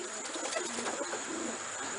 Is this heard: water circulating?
no